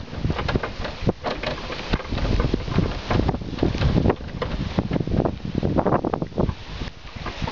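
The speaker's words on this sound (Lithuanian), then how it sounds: "Dar ir vėjas vėl atsirado." Wind gusts buffet a microphone outdoors in the countryside near a large stack, a loud, continuous rumbling roar that swells and dips for the whole stretch, with no voices.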